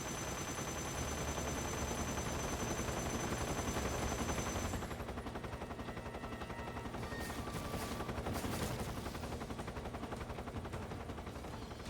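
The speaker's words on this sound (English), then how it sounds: "something's shooting at me" Rapid, continuous video game gunfire rattles at the player at close range, a dense machine-gun-like stream with crackling bursts and no one speaking.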